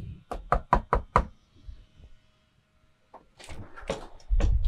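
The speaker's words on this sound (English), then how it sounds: "If I don't hear the doorbell, I'm going to knock on the door" Five quick, firm knocks sound on a house's front door, close and evenly paced, followed by a pause and then a man calling out.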